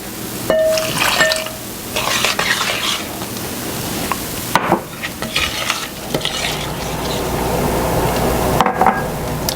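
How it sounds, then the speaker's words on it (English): Milk poured into a pot and stirred into a cornstarch mixture for a peanut butter pie filling, with a continuous wet swirling and scraping, occasional clinks of utensil against the pot, and no talking. "we're going to gradually pour the milk into this and mix it in"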